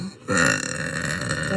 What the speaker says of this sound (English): There, I burped.